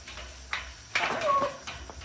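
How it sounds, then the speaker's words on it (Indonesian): A cat meows inside an old building, one drawn-out wavering call with a few shorter sounds and faint knocks around it, heard against a low background hum. "Kucing guys, rupanya kucing."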